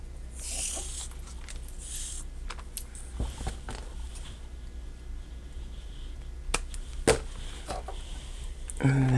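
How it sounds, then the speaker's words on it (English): Scissors snip through a piece of elastic for a traveler's notebook insert, giving a few sharp, isolated clicks against faint rustling and handling noise at a crafting table. "I'm going to cut a piece this length."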